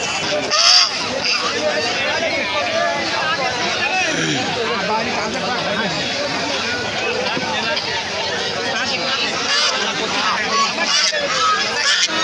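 Geese honking at a busy poultry market, a dense continuous chorus of nasal honks layered with crowd chatter and people talking nearby.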